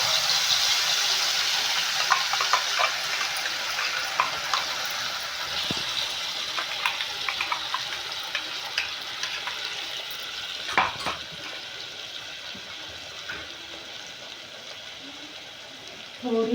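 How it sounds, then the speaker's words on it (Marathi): Ground masala frying in about two ladles of oil with a pinch of turmeric for a rohu fish curry, a steady soft sizzle with stirring scrapes and small clinks, fairly close, continuing evenly throughout. "आपला मसाला आता इथे फ्राय होत आहे"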